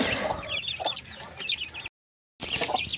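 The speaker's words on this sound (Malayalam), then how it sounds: "ആദ്യം നമ്മൾ അട വെച്ച കോഴി ഇതാണ് കേട്ടോ" A broody hen clucks and murmurs nearby with busy chatter, broken by a brief moment of silence before the clucking resumes.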